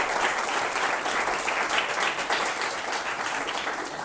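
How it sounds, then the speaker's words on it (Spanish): Audience applause fills a classroom lecture, a steady, dense wash of clapping from many hands that holds at even loudness throughout, with no talk over it. "Venga, un aplauso a Alejandro."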